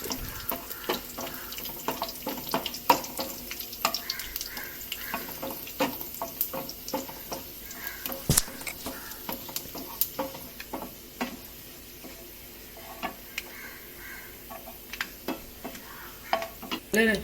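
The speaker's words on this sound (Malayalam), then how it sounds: "ഒരു 1-2 അല്ലി വെളുത്തുള്ളി അരിഞ്ഞത് ഇട്ട് കൊടുക്കാം. അപ്പോൾ നല്ലൊരു ഫ്ലേവർ ആയിരിക്കും പുളിശ്ശേരിക്ക്. പിന്നെ 2 വറ്റൽ മുളക് ഇട്ട് നല്ലോണം ഒന്ന് വറുത്തെടുക്കുക." Chopped garlic and two dried red chillies fry in oil for tempering a mango pulissery, giving scattered sharp crackles and pops over a soft sizzle, with occasional stirring clinks.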